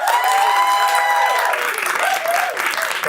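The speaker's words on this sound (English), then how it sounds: "Please give a round of applause to Gordy Howe, Account Executive on Marketin" A crowd in a hall applauds for a few seconds, with dense steady clapping and a voice or cheer ringing out over it.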